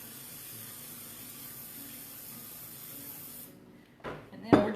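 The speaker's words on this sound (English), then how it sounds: "I am going to put just a little bit of olive oil in here." Olive oil sprayed into a small 8-inch non-stick skillet: a steady soft hiss lasting a few seconds that cuts off abruptly, followed by a couple of brief clattering knocks.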